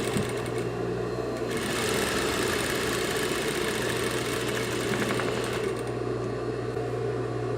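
A sewing machine stitches a fabric pencil case, running in one steady, loud, continuous whir close to the microphone for the whole stretch, with no talking.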